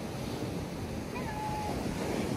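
Ocean surf pounding during a hurricane on Long Island, a constant heavy roar of waves mixed with wind buffeting the microphone, with a faint thin tone drifting briefly across the middle.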